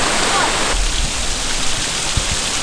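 Steady rushing water roars without a break, like a small waterfall heard from close by, with no voices.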